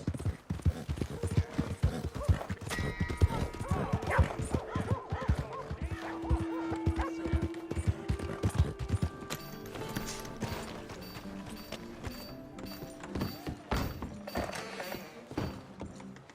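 Rhythmic hoof clip-clops with a horse's whinny from the video game Red Dead Redemption 2, with brief voices partway through.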